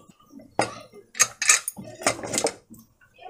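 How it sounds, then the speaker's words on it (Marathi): A few sharp metallic clanks and rattles of a pressure cooker lid being handled and lifted, close by, in short bursts. "कुकरचं झाकण उघडला"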